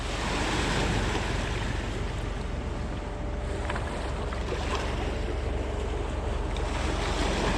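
Wake from a passing barge on the Mississippi River laps against the shore in a steady, continuous wash of water, with wind buffeting the microphone nearby.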